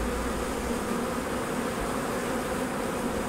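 Honey bees hum inside a hive just after a package installation, a steady, loud, close buzz without pause.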